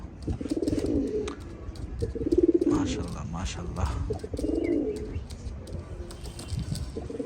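Oman Teddy pigeons in breeding mood coo in repeated low, throaty phrases close by, three or four rounds of cooing, while someone speaks briefly over them.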